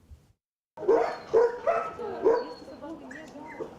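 Dogs at an animal shelter near Kyiv barking in a quick run of sharp, close yips and barks, several in a row, fairly loud against a quiet background.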